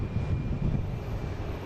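Aer Lingus Airbus A330 airliner arriving from Dublin and coming in to land, a steady low engine roar held at an even level throughout.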